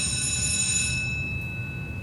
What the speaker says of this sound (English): For those of you that don't know why the bell just rang